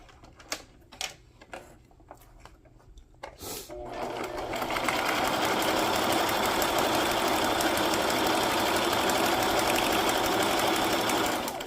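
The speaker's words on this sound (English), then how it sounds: "I'm gonna grab my sewing machine. And I'm gonna sew around my edges." A sewing machine stitches around the edges of a paper sack, starting with a few short clicks and taps, then running steadily and loudly for several seconds.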